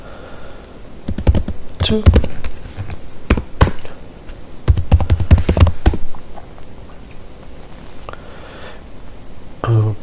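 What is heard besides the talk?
typing a terminal command on a computer keyboard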